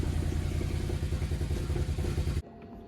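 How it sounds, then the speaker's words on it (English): A Mercedes E55 AMG engine runs loud and rough with irregular popping backfires through the exhaust, steady for over two seconds before cutting off abruptly into quiet. "She does seem to be backfiring a lot"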